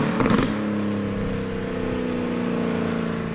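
Mercedes-AMG GT S nicknamed Frankenstein, a 600 hp car tuned by Josefin Garage, with a steady, loud engine drone full of layered tones after a brief, sharper burst at the start.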